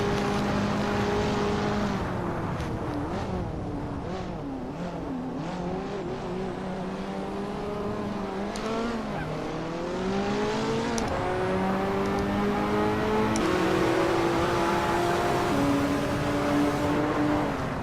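Animated Hot Wheels race cars speeding past, a continuous layered engine whine with several revving motors sliding up and down in pitch as they pass, loud and close throughout with no talk.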